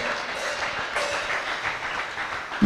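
A church congregation applauding during a sermon, a dense, steady wash of clapping from many people, loud and continuous throughout.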